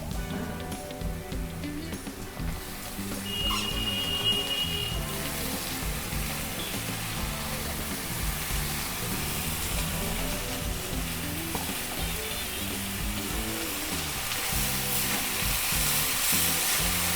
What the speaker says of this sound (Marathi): आता आपण भाजी टाकून घेऊ।